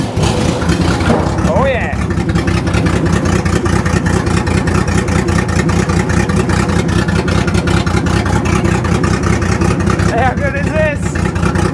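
A Ford Barra engine fitted with a Holley carburettor runs steadily and loudly at idle for the whole stretch, with people talking and exclaiming over it.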